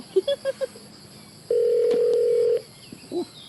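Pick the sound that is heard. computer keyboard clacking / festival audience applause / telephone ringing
telephone ringing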